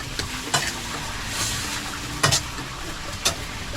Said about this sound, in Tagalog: Haluin lang natin siya ulit.